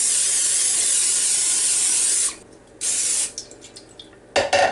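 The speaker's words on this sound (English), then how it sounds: "First thing I need to do probably is to spray my Bundt Pan, and just set it aside." Cooking spray hisses onto a Bundt pan in a steady two-second burst, then two shorter sprays follow, with faint kitchen clatter between them.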